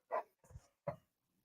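A dog gives three short, sharp barks, close and loud, spaced a moment apart, with quiet in between and no talk.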